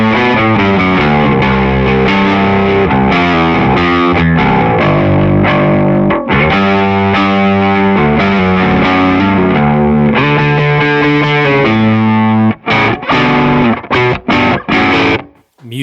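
Electric guitar through a Sledge FX The Veil 919 overdrive pedal, knobs at noon with volume nudged up, plays loud, crunchy riffs and chords, ending in choppy staccato stabs, with no voices.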